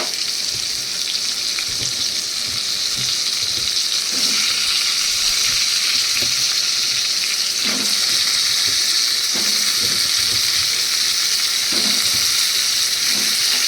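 Potatoes hiss in hot oil as they fry. A loud, constant sizzle fills the scene, with occasional faint stirring knocks beneath it and no talking.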